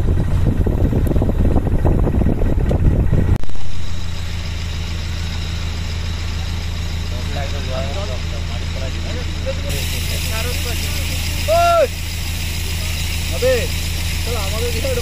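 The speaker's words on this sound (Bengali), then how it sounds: "বসে আছি বোটের উপরে, বোট এগিয়ে চলেছে কলসদ্বীপ।" A boat engine drones steadily as the boat moves across water toward an island in the Sundarbans, a loud continuous low hum throughout, with a rougher burst of noise at the start.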